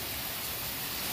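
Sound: rain falling

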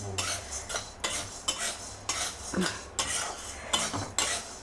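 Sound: roasting chana dal, urad dal and coriander seeds

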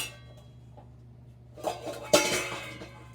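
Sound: cooking pot being pulled, clattering loudly

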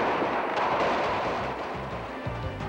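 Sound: gunfire in Haiti, news report

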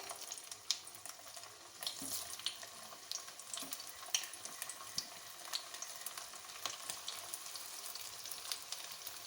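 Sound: stuffed bitter gourds frying in hot mustard oil

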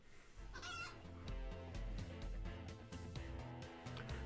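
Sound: clucking Clucky Billy chicken monster, from the video game Cassette Beasts

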